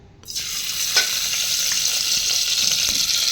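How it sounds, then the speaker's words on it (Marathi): Pure ghee sizzling in a pot heated on a gas flame, a sudden hiss at the start that settles into a steady, close, bright frying crackle with a few louder pops, no talking. "तीन ते चार चमचे साजूक तूप घालून घेऊया"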